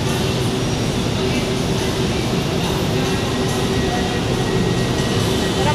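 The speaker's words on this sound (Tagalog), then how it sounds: "Parang bago yata tong train na to ah." An LRT train at Balintawak station gives a continuous loud rumble with a steady hum running through it, close by and unbroken.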